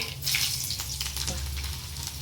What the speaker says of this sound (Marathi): इकडे तडका लसण टाकून घेते